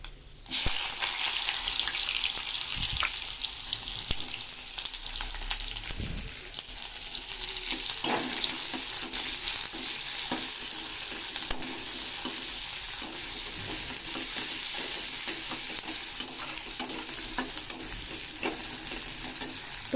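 Chopped onions fry in plenty of oil with panch phoron, giving a steady, close sizzle that runs throughout with occasional scrapes of stirring.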